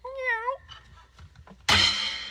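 A single short, rising-and-falling cat meow opens, followed by faint low murmuring and then a sudden loud burst of music.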